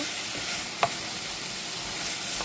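Sliced bitter gourd frying in a pan with salt while being stirred, a steady close sizzle broken by one brief scrape of the spatula.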